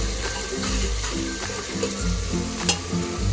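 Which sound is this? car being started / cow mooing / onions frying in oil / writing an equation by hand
onions frying in oil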